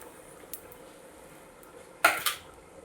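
A metal utensil scoops fried banana pieces out of hot ghee in a pan, giving a few sharp clinks and scrapes, one faint and then two close together, over a quiet background.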